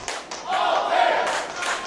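A wrestling crowd claps and cheers in a hall, a short burst of clapping swelling into crowd noise with a few thuds.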